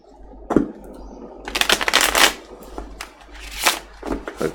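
Tarot cards being shuffled by hand during a reading, with bursts of riffling and flicking between quieter pauses, close and fairly loud.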